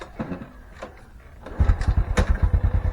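A starter motor cranks briefly, then a carbureted Honda Supra X 125 motorcycle engine catches and settles into a rapid, throbbing idle close by.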